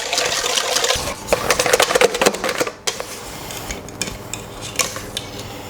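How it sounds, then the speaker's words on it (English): Cream is whisked in a bowl for an almond cake until it firms up. A mixer or whisk makes a continuous rattling, clattering whir with dense rapid ticks, briefly cut off midway before it resumes. "we want to whisk that up until it's firm"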